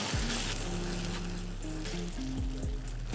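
Tomato concasse pasta sauce with puree, black pepper and chili flakes sizzling in a pan while being mixed, a close steady frying crackle with faint scraping, no talk.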